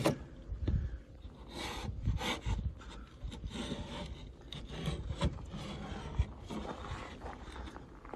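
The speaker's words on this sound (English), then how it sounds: "get some grooves, do some random little run the chisel back this way" Steady rasping and scraping of a chisel cutting grooves across wood, with rhythmic strokes continuing throughout at close range.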